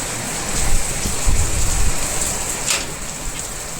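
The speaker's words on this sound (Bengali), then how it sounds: "সাংঘাতিক বৃষ্টি।" Heavy monsoon rain pours down in a continuous hiss during a power cut at home, with a few louder swells and low rumbles, no one speaking.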